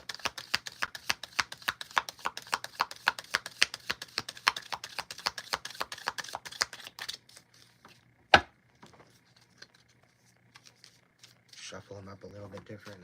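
A deck of tarot cards is riffled and shuffled in a quick, steady run of crisp flicks for about seven seconds, then a single sharp knock and a few faint handling sounds follow as a voice speaks quietly.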